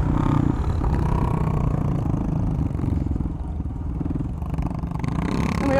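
A Royal Enfield motorcycle's engine drones loudly during a flat track race, with a steady, close mid-pitched roar and a brief rise in revs near the start.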